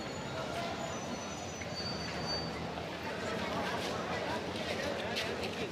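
A train pulls into a station in Sri Lanka with a steady heavy rumble and faint squealing wheels, while a busy crowd of voices chatters throughout.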